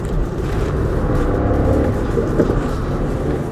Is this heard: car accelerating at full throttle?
yes